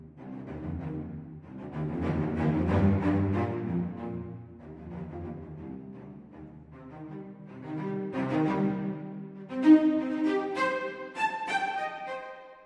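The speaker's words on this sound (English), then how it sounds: "I'm going to start up with the spiccatos on the cello" Short, bouncing spiccato cello notes from a Spitfire Audio Mural Symphonic Strings sample library, played in quick detached runs, rising and falling in pitch, with varying loudness and no voices.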